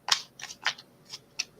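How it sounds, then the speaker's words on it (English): Tarot cards being shuffled by hand, giving a handful of quick, crisp snapping riffles close by, spaced irregularly with quiet gaps between them. "If I can make my card shuffle, try one more time."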